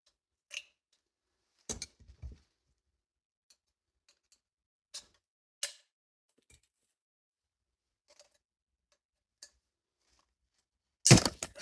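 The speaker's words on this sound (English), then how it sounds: "I'm breaking parts off trying to get this out." Plastic parts of a stuck grease cartridge snap and crack out of a Harbor Freight pistol greaser, sounding as sparse sharp cracks and clicks at irregular intervals, close and quiet, with a louder crack at the end.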